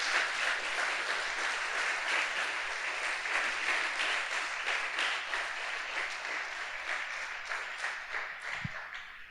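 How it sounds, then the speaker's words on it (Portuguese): Congregation applauding during a Pentecostal church sermon, a steady dense wash of many hands clapping at moderate distance, sustained evenly throughout without speech. "aplauda o Senhor por isso."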